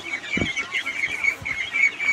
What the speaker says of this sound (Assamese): 25 দিনীয়া হাঁহখিনি